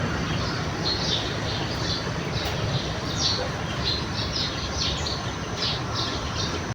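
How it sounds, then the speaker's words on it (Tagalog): Faint chirps and calls from birds outdoors repeat throughout, scattered and distant over a constant broadband ambient hiss. "Yung mga ibon dyan."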